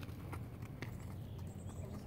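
A former rescue gelding ridden in a bitless sidepull bridle walks forward, hooves giving soft, irregular clops on the ground beneath a constant outdoor background hiss, fairly faint and unhurried.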